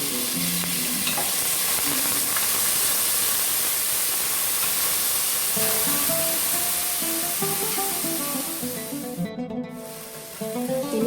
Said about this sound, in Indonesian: Sekarang saya akan goreng dulu bumbu yang tadi saya haluskan